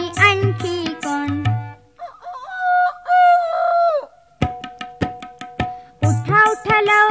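A rooster crows once in a long, drawn-out call amid short clucking bursts and bright musical notes from a Marathi children's song.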